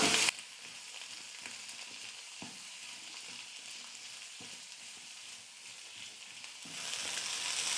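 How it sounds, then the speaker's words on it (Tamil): Onions sauté in a pan for chutney, a steady, even sizzle that is loud at the start, settles into a constant frying hiss with faint stirring taps, then swells again near the end. No one speaks. "வெங்காயம் வந்து ஓரளவுக்கு நல்லா வதங்கி வந்திருக்கு"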